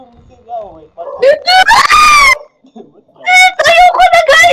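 Loud, shrill screams come in two long outbursts from a player session of the Roblox game Interliminality Experience, separated by a brief quiet gap with softer vocal sounds.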